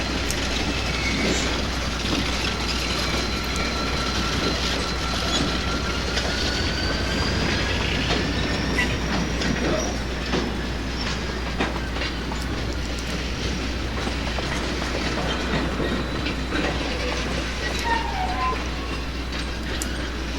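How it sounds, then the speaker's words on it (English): A freight train with large auto boxcars and a caboose rolls past in a town, a loud continuous rumble with clattering wheels and drawn-out wheel squeals rising and falling over it. "Huge auto boxcars. And they even have a caboose."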